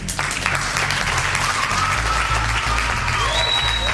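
A studio audience on a Brazilian talk show breaks into applause, a dense, steady wash of clapping that carries on for several seconds at moderate volume.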